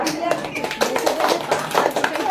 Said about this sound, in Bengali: তো ম্যামের জন্য একটা জোরে হাততালি হয়ে যা।